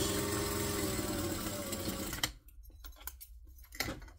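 Sewing machine running a steady stitch for about two seconds, then stopping and making short back-stitch bursts, close and fairly loud while sewing a bag.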